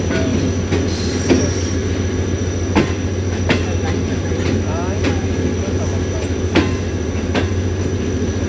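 Departing 11UP train at Padidan Junction in Sindh, a steady low rumble of railcars with repeated wheel clacks and squeals rolling past nearby, with faint voices in the background.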